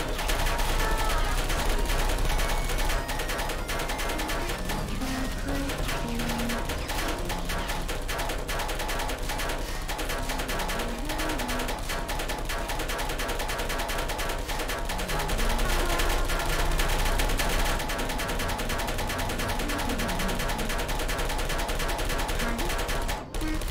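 Automated turrets in the Portal 2 video game fire rapid bursts of gunfire, loud and sustained throughout, layered over game music and effects with a voice speaking at times.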